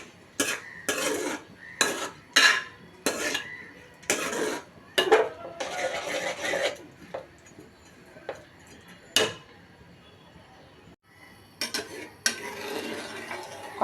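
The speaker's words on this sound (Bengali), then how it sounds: "চুলায় বসিয়ে দিলাম, এবার নেড়ে চেড়ে ডাল আগে কতক্ষণ কষিয়ে নিব।" Red lentils being stirred and fried in mustard oil in a pan on a stove, heard as a run of close scraping, clinking spoon-on-pan strokes in an irregular rhythm with quiet sizzle between, no voices.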